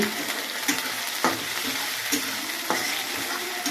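Spices frying in oil in a wok before the meat goes in, with a continuous loud sizzle and a spatula stirring and scraping against the pan in repeated strokes.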